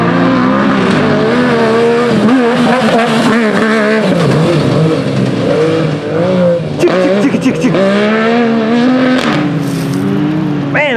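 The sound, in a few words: side-by-side race vehicle backfiring on gear shifts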